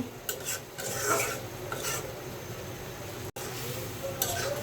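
Fish frying in a pan of spice paste, a steady close sizzle and rasping fry that runs almost unbroken, with a brief dropout near the end.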